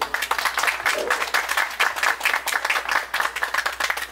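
Audience claps for a musician about to play at a southern Brazilian cultural show in Xaxim, rhythmic close-up clapping that runs steadily throughout, with some talk mixed in.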